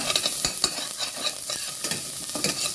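Onions sauté and sizzle in a hot pan for chicken tinola, with steady frying crackle and repeated scraping stirs close by, no talk.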